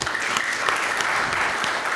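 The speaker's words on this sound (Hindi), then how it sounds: "आप सब एक बार खुद के लिए तालियां बजा दीजिए" Applause from a live audience at a Hindi comedy show, steady dense clapping that fills the whole span at an even level with no speech over it.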